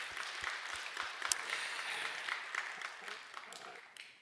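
Church congregation during a Sunday service in Jeju claps for its officers, producing a soft, distant patter of applause that stays faint and steady throughout.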